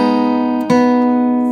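Guitar plays a sustained ringing chord passage from a Red Dead Redemption piece, with a fresh strum near the middle letting the notes ring on, close and clear with no talking.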